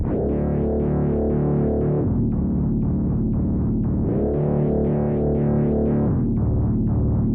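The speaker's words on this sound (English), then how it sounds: "We have two bass lines going on the production at the same time." Two deep, throbbing synth basslines pulse together in a steady rhythm, their pitch sliding and shifting every couple of seconds, loud and continuous with no voices.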